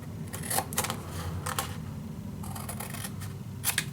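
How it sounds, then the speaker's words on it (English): Scissors cut scrapbook paper with a few crisp snips at irregular intervals, close by over a low background hum and with no talking. "I'm gonna do that with my scissors so I can gently just follow my line"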